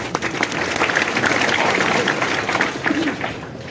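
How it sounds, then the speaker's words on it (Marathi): Audience at a Marathi kirtan applauding together, a steady wash of hand claps sustained across the whole stretch at fairly even loudness, with no voices over it. "टाळ्या वाजवणारे सगळे पाप आहेत"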